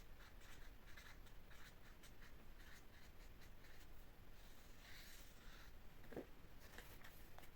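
Marker or chalk strokes scratching across a board, a steady series of short scraping marks with faint room noise, no voices.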